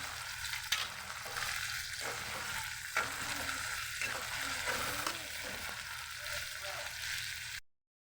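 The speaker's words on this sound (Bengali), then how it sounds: "এখন মশলাটা ভালো করে ভেজে নেব" Spices sizzling steadily in a hot pan: salt, ginger-garlic paste, turmeric and chili powder fried for a pumpkin and okra curry. A continuous close crackle with occasional stirring scrapes runs throughout, then cuts off abruptly.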